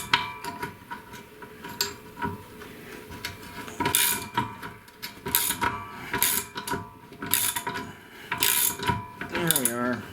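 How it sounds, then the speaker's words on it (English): A ratchet wrench backs out the mounting bolts on a 1937 Briggs and Stratton Model A engine, giving close, loud bursts of rapid clicking in repeated strokes separated by short pauses, with occasional talk over the work. "Get those mounting bolts out."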